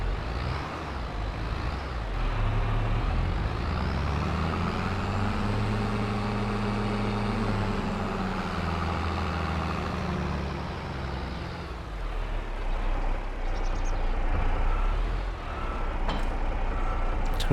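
Case tractor in Farming Simulator 22 pulling a trailer, a continuous low droning engine that rises and falls in pitch as it works, steady and close, with no talk.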